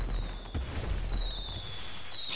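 Fireworks launched in GTA 5 give off rising whistles that glide downward over a low rumbling bed of distant pops and crackles, steady and moderately loud.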